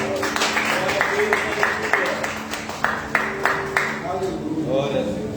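Church congregation clapping in praise during a worship service, a steady run of claps mixed with voices and sustained tones, fairly loud throughout.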